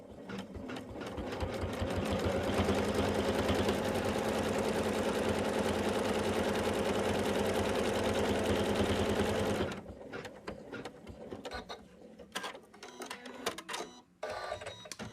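An embroidery machine stitches a placement line for a Santa bib, a loud rapid mechanical whirring and clatter that runs continuously for about ten seconds, then stops, leaving quieter handling noises and scattered clicks.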